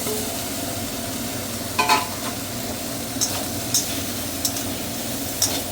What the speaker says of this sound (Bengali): আলুগুলো যেগুলো ভেজে তুলে রেখেছিলাম এইবার এগুলো আস্তে আস্তে এর ভিতরে দিয়ে দেবো